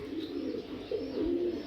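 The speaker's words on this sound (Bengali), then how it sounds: "সব কোয়ালিটি কবুতর" Racing pigeons, young club-member birds, coo repeatedly in low throaty rolls, steady and fairly close with no talk.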